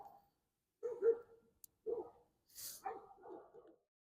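A dog barks in several separate bursts with short gaps between them, at moderate distance in a quiet house, with no talking.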